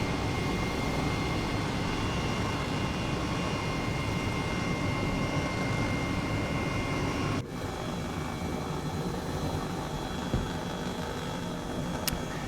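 An H135 helicopter flies in Microsoft Flight Simulator, its engine and rotor making a dense, constant drone that fills the scene at steady loudness, with a brief dip midway and no voices.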